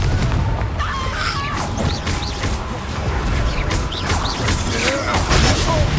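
Confringo blasting spell detonations in the video game Hogwarts Legacy, repeated booming bursts and crackling impacts amid busy combat noise, loud and continuous throughout.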